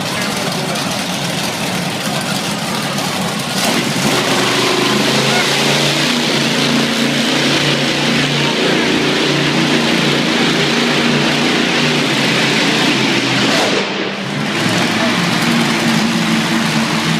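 Ghost Rider monster truck at a Pasco, Washington show, its heavy engine roaring loud and close with a deep, sustained rumble that holds steady for most of the stretch, briefly dipping before picking back up.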